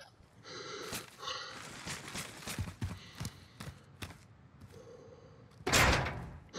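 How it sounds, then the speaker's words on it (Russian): A door bangs shut in Call of Duty: Modern Warfare amid a string of sharp in-game thuds and clatters, with a heavier slam near the end and no clear talking over it. "Закрой дверь, сиди"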